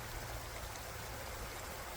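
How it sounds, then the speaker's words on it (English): A small creek runs through a front yard, giving a steady, soft rush and trickle of flowing water that holds even throughout, quiet and unbroken, with no voices. "I have this creek running through the front of my yard"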